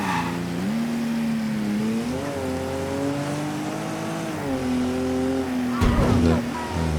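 A car in the video game Mafia III drives with a steady, rising and falling engine drone, ending in a brief burst of tire noise or impact near the end.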